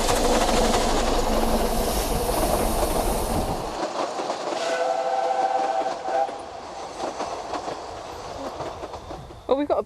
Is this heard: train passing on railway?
yes